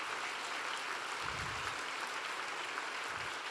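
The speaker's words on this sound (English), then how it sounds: "Please give them a round of applause." Audience applause at an awards luncheon, steady soft clapping from a crowd heard at a distance, quiet and continuous with a few low thumps.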